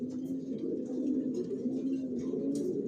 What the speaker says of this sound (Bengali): আমার লফটে সবাই কিলেনের কবুতর বালি জনসনের লংয়ের